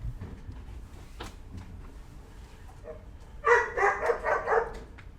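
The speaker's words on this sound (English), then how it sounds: "The dogs are going crazy." Dogs bark in a quick series of loud, yappy outbursts toward the end, after a quieter stretch of room noise with faint knocks.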